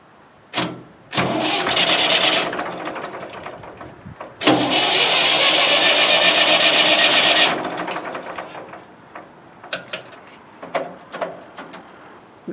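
A farm engine is started with the choke pulled out: short cranking bursts, then it catches and runs loudly for several seconds before dropping off, followed by scattered clicks and knocks nearby.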